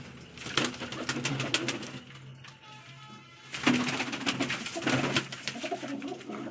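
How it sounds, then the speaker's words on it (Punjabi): Large pigeons cooing in a loft, soft repeated coos at close range with a pause around the middle, over low wing and shuffling noise. "ਇਹ ਆਪਣੇ ਵੱਡੇ ਕਬੂਤਰ ਹੈ ਮਿੱਤਰੋ"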